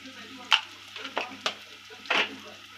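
Mustard seeds, cumin and curry leaves sizzle and crackle in hot oil for a Malvani misal, with several sharp spattering bursts and stirring scrapes over a steady low hiss, close and moderately loud, no voices.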